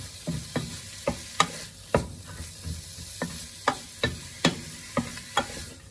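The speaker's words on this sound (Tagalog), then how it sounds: "Haluin na po mabuti." A spoon scrapes and knocks steadily through a rellenong bangus filling of milkfish and carrot in a pan, with about a dozen evenly spaced strokes over a soft background sizzle and no talk.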